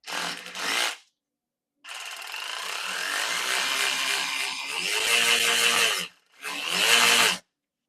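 A Snap-on electric ratchet spins a heavy Mac or Cornwell socket in three close bursts of whirring, grinding motor noise. The middle run lasts about four seconds and slows slightly under the load.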